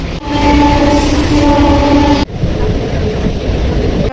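A train rumbling past close by, loud and steady, with a brief horn-like tone early on and a sharp clunk midway.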